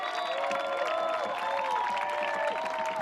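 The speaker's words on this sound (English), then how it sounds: "And this crowd getting engaged now." Steady stadium crowd noise rising into cheers and whoops at an Oregon State versus Washington women's soccer match, a dense, continuous roar throughout with faint whistles.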